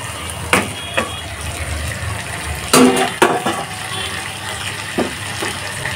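Fish pieces dropped into a pan of cooked spice paste, giving a steady wet sizzle with a few sharp splashy bursts as pieces hit the hot pan, close up and fairly loud.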